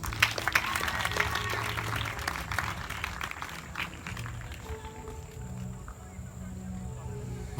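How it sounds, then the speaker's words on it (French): A church congregation applauds and cheers in acclaim, a dense wash of clapping and voices that gradually thins and fades. "On acclame encore le Seigneur."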